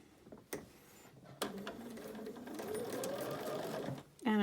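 A sewing machine stitches a fabric face mask in a short close run of rapid mechanical whirring, preceded by clicks and handling noises, with a person talking around it.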